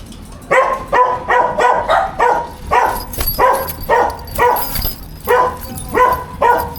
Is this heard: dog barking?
yes